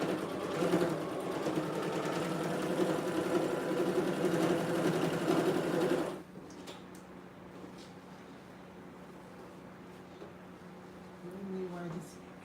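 A sewing machine runs steadily for about six seconds, a loud close mechanical whir with fast stitching rhythm, then stops abruptly, leaving quiet room tone and a brief faint sound near the end.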